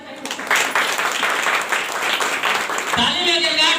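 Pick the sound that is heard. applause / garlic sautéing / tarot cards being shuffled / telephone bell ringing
applause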